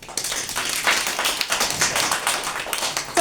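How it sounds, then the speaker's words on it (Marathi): Children at an anganwadi preschool clap together for a classmate, a steady run of overlapping hand claps with broadband bursts filling the whole stretch, no voices on top. "छान, टाळ्या वाजव त्याला."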